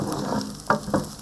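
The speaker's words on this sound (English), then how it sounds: "Followed by the corn, and I'm going to saute those" Onions and corn sauté in a hot pan for a green Thai curry, a soft steady sizzle with two brief stirring scrapes, close and quiet with no talk.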